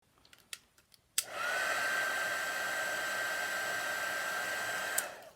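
A heat tool blows a steady, loud whoosh over a handmade lantern card for about four seconds, switching on abruptly after a few faint clicks and taps and cutting off at the end.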